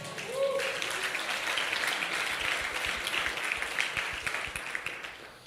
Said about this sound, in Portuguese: Quem pode bater palmas para a igreja?